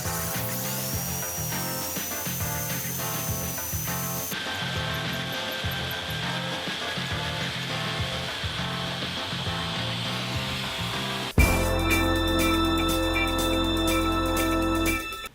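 A power drill bores down through pool table slate and into the backing board, a loud continuous whirring grind close by that shifts pitch partway through and ends abruptly.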